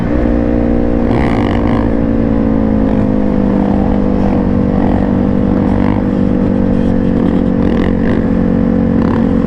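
Two-stroke dirt bike engine running loud and close, a continuous droning buzz that holds steady with slight rises in revs throughout.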